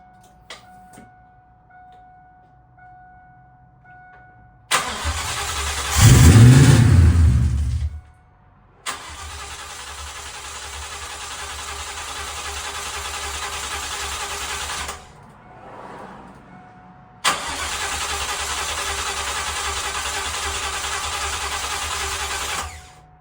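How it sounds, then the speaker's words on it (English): A 1998 Cobra car engine cranks and fires, a loud burst settling into a steady running drone that cuts out, then restarts and runs evenly again, close by with no talk. "Let's try to fire up the car, see if we have any leaks."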